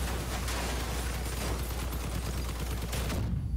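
Rapid gunfire and cannon blasts in the vehicle combat game Crossout, a dense, continuous barrage of loud shots aimed at the player, cutting off abruptly near the end.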